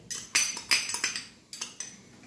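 A metal spoon clinks and scrapes against a pan as pink-roasted semolina goes in for rava kheer, about seven sharp close taps and scrapes in uneven rhythm, with no talking.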